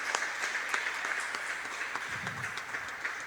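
Congregation applauding inside a church during a worship service, steady dense clapping from many hands throughout, moderately loud and continuous without a break.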